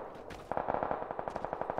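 Rapid automatic gunfire in a shooter video game, a quick even burst of repeated shots after a brief lead-in, clear and moderately close with no talking.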